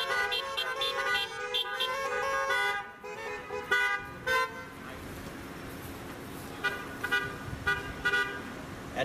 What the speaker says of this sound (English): Again, honk your horn.